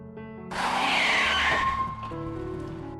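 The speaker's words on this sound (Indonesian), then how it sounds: "ban mobil musuh langsung kempes, alhasil mobil oleng tak terkendali." A car skids on tires that were shot flat and swerves out of control during a chase: a loud, sustained screech starts abruptly and rings on for a couple of seconds over engine rumble, then fades to a lower drone.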